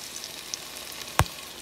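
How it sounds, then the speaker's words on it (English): Onions fry in butter with meat drippings added, giving a steady, soft sizzle and crackle with one sharp clink near the end. "I'm going to add the drippings on now as those cook"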